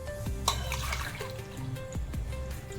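Water is poured into a pot holding rice and moong dal for khara pongal. It makes a steady, close splashing trickle with a few drips, and no one speaks.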